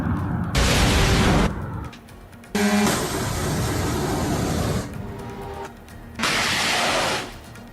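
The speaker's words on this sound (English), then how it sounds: "The explosion followed and a plume of smoke was seen in the area." Projectile exploding on a road in Or Yehuda, Israel, heard as several loud, sharp bursts separated by short gaps, with a rumbling, noisy tail between the blasts.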